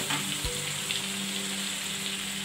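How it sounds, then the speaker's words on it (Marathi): Tomatoes and peas sizzle and crackle in a frying pan as they are stirred, a steady close hiss with a soft clink of the utensil near the start. "मटार सॉफ्ट होतोपर्यंत हलवूया टोमॅटो सॉफ्ट होसपर्यंत छान आपण हलवून घेऊया"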